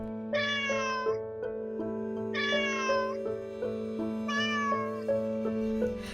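A cat meows three times indoors in a room, drawn-out cries spaced a second or two apart over a steady musical background.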